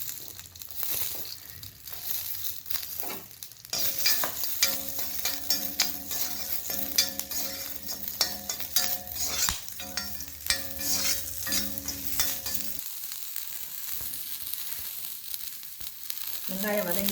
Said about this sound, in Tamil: வெங்காயத்தை வறுக்கணும்.